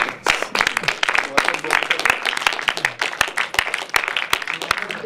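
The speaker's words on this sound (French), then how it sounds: "Ouais, applaudissez-vous" A crowd applauds, many hands clapping in a dense, steady patter with a few voices mixed in underneath.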